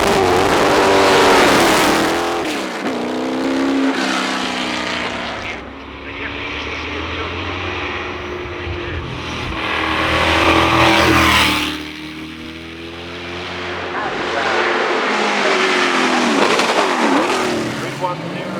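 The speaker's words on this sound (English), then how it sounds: "Roger Dean's massive 5-litre Lola Formula 5000 car" Roger Dean's massive 5-litre Lola Formula 5000 race car pulls hard off the line at a hillclimb, a loud, rising engine roar with gear changes that swells, dips and surges again, mixed with crowd and commentary voices.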